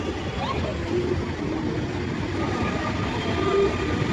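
Steady low rumble of a train running, with a constant rolling roar and faint squeals throughout, fairly close.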